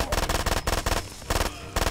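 Automatic gunfire in the video game Far Cry 2 rattles out in several quick bursts of rapid shots, separated by brief pauses, moderately loud and close.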